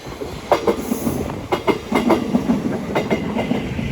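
A Thameslink train to Brighton pulls into East Croydon station on the Brighton Main Line, with nearby rhythmic clickety-clack of wheels over rail joints and steady running noise. There is no talk.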